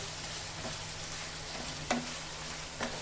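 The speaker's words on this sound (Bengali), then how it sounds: "এক চামচ কাশ্মীরি লঙ্কার গুঁড়ো। আমি একটু ভালো করে ভেজে নেব।" Spices with Kashmiri chilli powder frying for chicken korma, a steady close hiss of oil with a few brief scrapes and taps from stirring.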